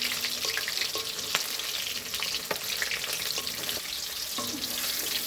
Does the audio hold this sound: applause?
no